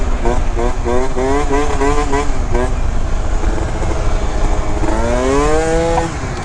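A 70cc Zuma scooter with a stage 6 cylinder and a high-revving expansion pipe on a test ride, its engine droning loudly throughout with rising and falling revs, close by.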